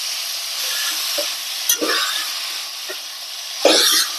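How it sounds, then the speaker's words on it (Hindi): Boiled mustard greens stirred into a hot pan, with broadband sizzling throughout and a few soft scraping strokes of the spoon, one louder burst near the end. "सरसों का साग बॉईल हो रखा है, तो मैं इसे डाल दूंगी, अच्छे से मिक्स कर देंगे।"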